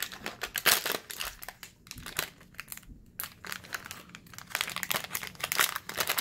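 Crinkling foil wrapper of a 2018 Topps Series 1 baseball card hot pack being torn open, close and fairly quiet, with irregular bursts of crumpling and tearing and brief pauses between them.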